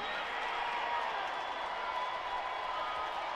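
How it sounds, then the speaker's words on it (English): Stadium crowd at a college football game, Furman at Western Carolina, roaring steadily before a 50-yard field goal attempt, a dense, even wash of cheering and applause at moderate distance with no single voice standing out. "Crowd roars to their feet before the 50-yard try"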